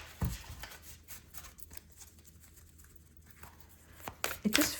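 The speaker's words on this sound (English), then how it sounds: "Nice shuffle." A Roots and Wings nature oracle card deck being shuffled by hand gives a soft papery flutter near the start, goes quiet for a while, then ends in a louder burst of quick, crisp card riffling.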